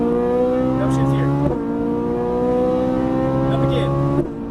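Ferrari 458 Italia engine on a racetrack climbing steadily in pitch as it accelerates, with two abrupt upshifts cutting the revs before they rise again, loud and close, while a voice talks over it.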